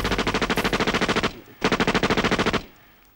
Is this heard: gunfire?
yes